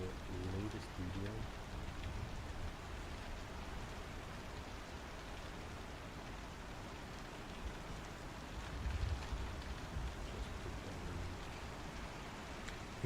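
Steady rain patters inside a building in the video game Star Citizen, a dense, even hiss of falling drops that stays constant and fairly quiet throughout, with a faint low rumble partway through.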